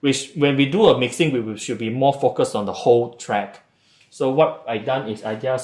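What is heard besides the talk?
None of the usual background noises is heard.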